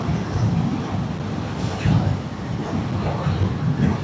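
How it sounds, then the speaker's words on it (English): Heavy, steady wind roar buffets the microphone on a Honda Hornet 750 motorcycle at about 70 mph and just over 4,000 rpm, a broad rushing noise with a low engine hum beneath it, loud throughout. "I'm getting quite a lot of wind"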